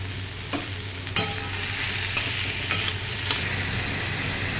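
Semolina being dry-roasted and stirred with salt in a pan while making savoury suji, giving a steady soft sizzle with a few sharper scrapes and clicks of the spoon against the pan, close and alone without talk.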